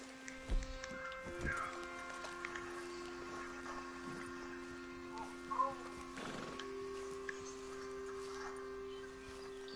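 A horse in Red Dead Redemption 2 neighs and whinnies over scattered hoof clip-clops, fairly quiet and distant-sounding against a soft game ambience.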